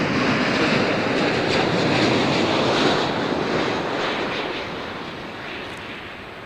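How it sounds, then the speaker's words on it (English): Singapore Airlines Boeing 787-10 Dreamliner, four years old, roaring past at Adelaide airport with a steady broadband jet engine rumble that gradually fades as it moves away. "787-10 Dreamliner, 4 years of age"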